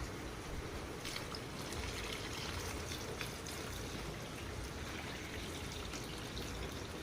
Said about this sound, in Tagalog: Pagkalipas lang po ng kunting minuto, magdaradag na po ako ng tubig.